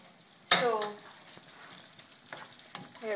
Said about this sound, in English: Just mix that round, covering all the totties in this curry sauce.